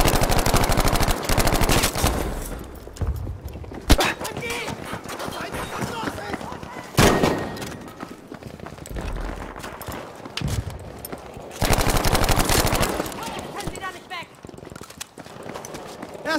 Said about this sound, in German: Ich sehe einen verdammten MG-Schützen!